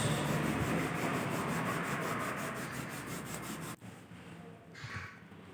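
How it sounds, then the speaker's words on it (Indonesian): Continuous rhythmic scraping of sandpaper rubbing over dried white cement, close and steady, stopping abruptly near the end. "kita amplas lagi semen putihnya biar halus"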